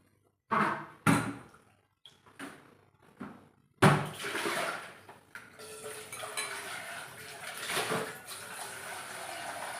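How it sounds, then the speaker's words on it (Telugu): After a few clanks of utensils, water runs steadily into a kitchen vessel to soak eggplants for an eggplant and chana dal curry, a close, continuous rushing that stays loud to the end. "వంకాయలకు వాటర్ తీసుకుంటాను"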